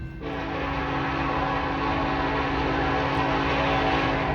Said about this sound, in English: We got another Norfolk Southern train coming up.